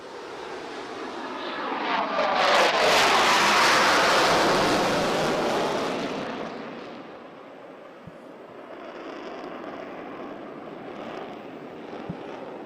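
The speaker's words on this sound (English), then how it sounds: "He will roll the aircraft at 90 degrees angle of bank and pull 6 times against the force of gravity as he performs a hard turn" A MiG-29 fighter jet sweeps through a hard turn at a naval day flying display, its roaring engine swelling loud and broad, then fading into a distant hiss.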